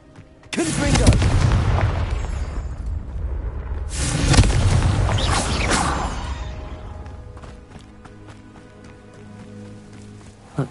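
Two heavy, booming blasts from the Confringo spell in Hogwarts Legacy, each a loud close explosion with a long rumbling tail, the second stronger and fading slowly into quieter game ambience.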